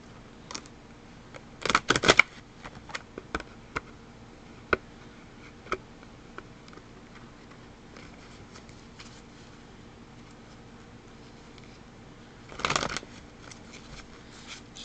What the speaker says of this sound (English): Just doing some shuffling.